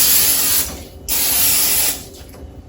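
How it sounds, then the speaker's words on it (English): Butter cooking spray hisses onto a hot waffle maker in two long, steady bursts with a short gap between them, close and loud, then a brief click at the end. "we're going to spray it with a butter spray so that the batter does not stick on"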